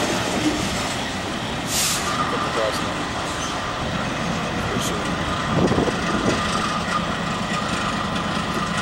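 Train passing by at a Motor Capital outdoor site: steady rolling rumble of railcars with clanking wheel thuds and faint squeals, while people talk nearby over it.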